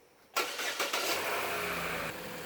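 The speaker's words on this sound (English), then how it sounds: "I'm going to start the car" A 2014 Chevy Cruze with the 1.8L engine, just after coolant work on the thermostat housing, cranks briefly and catches, revs up loudly and then settles into a steady close idle.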